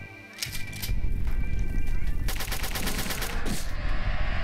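Rapid bursts of gunfire from the horror shooter game Revenance crackle loud and dense, overlapping shots and mechanical clatter filling nearly the whole stretch.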